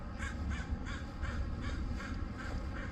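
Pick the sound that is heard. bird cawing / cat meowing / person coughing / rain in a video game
bird cawing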